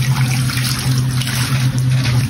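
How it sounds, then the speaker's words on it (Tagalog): Running water rinses raw chicken intestines (isaw) being cleaned for grilling, a steady close-up rush like a flowing tap into a basin, continuous and loud throughout. "Banlawan muna natin ito mga parikoy."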